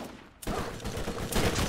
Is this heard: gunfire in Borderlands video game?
yes